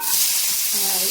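Chopped onions hit hot oil with tempered mustard seeds for an egg rice dish, a loud bright sizzle that swells and holds steady, with a little stirring and no talk.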